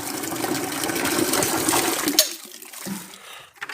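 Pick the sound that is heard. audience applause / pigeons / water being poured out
water being poured out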